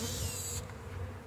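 Dense insect buzzing fills the clip, a steady droning hum of a honey bee swarm close by with no talking.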